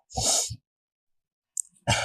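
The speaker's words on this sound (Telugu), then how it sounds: "అమ్మ దగ్గుతుంది దగ్గు ఎలా ఆపాలో తెలియట్లా" A woman gives two harsh, close coughs, the first longer and the second cut short, separated by a stretch of near silence.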